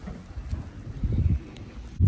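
Gusty wind buffeting the microphone outdoors beside a grill, a low rumbling roar that swells and fades unevenly over a couple of seconds.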